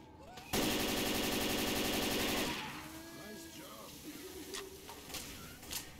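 Rapid, sustained automatic rifle fire in the zombie shooter Left 4 Dead, Crash Course campaign, loud and close for about two seconds, then cutting off into quieter in-game clatter and distant sounds.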